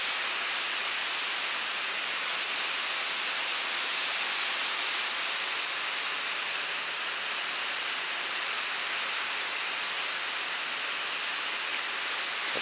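Water sprays from a garden hose to flood an outdoor ice rink, a loud, continuous, even hiss of spray with no break, close by and alone.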